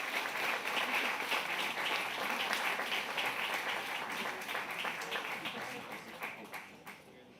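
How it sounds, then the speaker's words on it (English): Crowd applause at a photography awards ceremony, a warm, steady clatter of many hands clapping at moderate distance that slowly thins out and fades near the end. "please give Alethea Casey a big round of applause."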